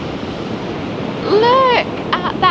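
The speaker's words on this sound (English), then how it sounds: "Watch the waves. It kind of looks like the waves are coming at us." Sea waves break on the beach at Seaham in a steady, close surf wash with wind rumble. The rush swells briefly near the middle, and a voice sounds faintly over it.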